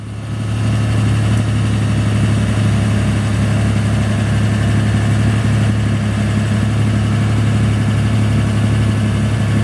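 A 1947 Chevrolet is raised on its adjustable suspension, a loud, steady low drone running continuously close by without a break.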